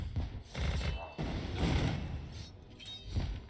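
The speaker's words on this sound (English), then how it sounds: "That was his little like nuke explosion." A nuke-style explosion in the Kingdom Rush Frontiers tower defense game, heard as a run of loud crackling blasts and rattling bursts over about three and a half seconds, with no talking.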